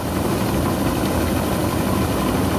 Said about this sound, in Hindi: ये जितना भी गेहूं के पेड़ से गेहूं निकला था इस कंबाइन मशीन द्वारा, ये देखिए एक ट्रैक्टर की ट्रॉली पर ट्रांसफर कर दे रहे हैं